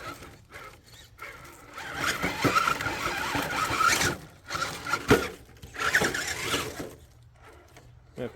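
Rock crawler tires spinning and scrabbling for grip on a rocky undercut, a grinding, squealing churn that rises and falls in a few surges, with drivetrain whine and quieter pauses between.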